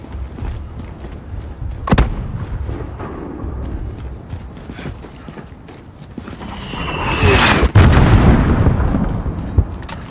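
Gunfire and mortar explosions in the Call of Duty Modern Warfare video game, with scattered sharp reports and a rising rumbling blast toward the end, heavy bursts continuing through the final seconds.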